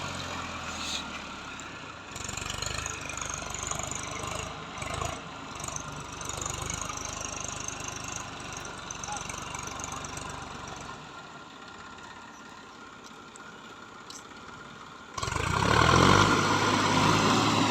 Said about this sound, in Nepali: यहाँ ट्र्याक्टरले जोत्दैछ, हजुरहरूलाई म देखाउने नै छु।